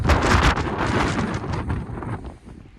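Strong wind buffeting the microphone at a ferry port in Bilbao: loud, rumbling gusts that swell and ease over a few seconds and fade toward the end, with no voices.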